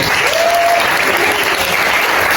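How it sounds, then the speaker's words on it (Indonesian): Loud, dense applause from an audience at a teacher certification session, steady clapping that fills the whole moment without pause. "Baik, tepuk tangan dulu."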